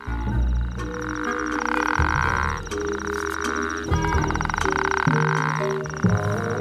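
Loud, repeated frog croaks in long pulsing bursts, close by, with a steady trilling chorus and continuous background calls, from a male frog's mating call in a desert wadi.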